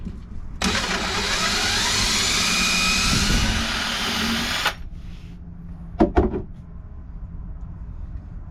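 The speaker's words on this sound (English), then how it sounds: "we are now ready to do pilot holes for the little screw" A power drill bores pilot holes for the screws of a solar charger on a Jeanneau 795 NC boat, a steady close whirring run of about four seconds followed by two short bursts.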